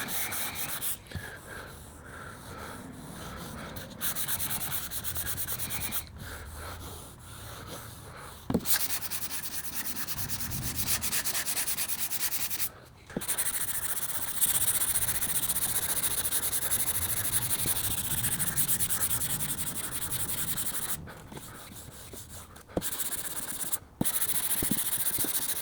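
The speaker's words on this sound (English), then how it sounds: "We're just letting the sandpaper do the work." Steady rubbing hiss of a sanding block worked by hand over primed car paint, light pressure, continuous strokes with a few short pauses, close and fairly loud, no voices.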